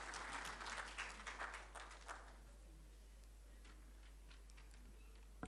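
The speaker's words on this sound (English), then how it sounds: "Shall we welcome her with a clap" Audience applause at a formal courtesy call on Ghana's President Mahama, a dense burst of clapping that thins out after about two seconds and fades to low room noise.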